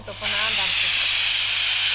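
A loud, continuous hiss of steam bursting from a pressure cooker cooking rice, starting abruptly after a faint voice and holding steady.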